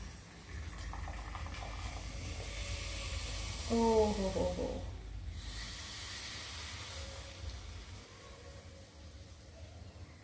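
Tandoori tea boils up and hisses in a hot clay pot, a steady sizzling hiss that runs throughout while a voice calls out briefly near the middle.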